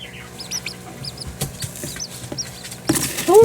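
Baby chicks peep in a brooder box under a red heat lamp: many high, rapid chirps overlap up close, with scratching and shuffling beneath and a louder flurry at the end.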